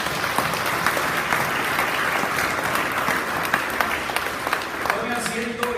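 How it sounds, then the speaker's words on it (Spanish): A church congregation gives sustained, dense applause to the Lord, a steady wash of many hands clapping that continues for several seconds in a large worship room. "denle un fuerte aplauso al Señor"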